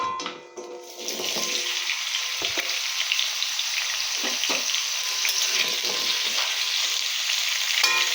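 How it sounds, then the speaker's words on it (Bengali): Cut potatoes sizzle and fry steadily in hot oil in a pan, a loud continuous crackling hiss after a brief start, with occasional stirring scrapes and no talk. "তো এর মধ্যে আমি দিয়ে দেবো প্রথমেই আমার কেটে রাখা এই আলু।"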